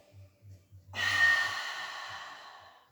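A deep breath is taken during a Pilates exercise: a single long, airy exhale that starts abruptly, swells, then slowly fades, close and alone after a few low murmured sounds.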